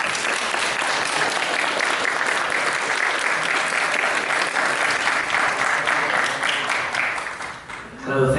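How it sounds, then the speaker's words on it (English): A conference audience gives a warm, sustained round of applause, dense and even clapping that continues steadily from start to finish at close range. "A warm round of applause, please."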